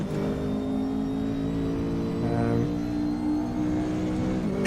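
A McLaren 570S GT4 race car engine in the RaceRoom racing game holds a steady moderate drone, rising briefly in pitch mid-way as it revs, with no talk.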